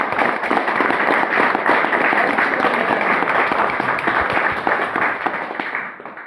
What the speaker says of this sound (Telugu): క్లాప్స్. అప్పుడు కొట్టండి ఒకసారి బాగా.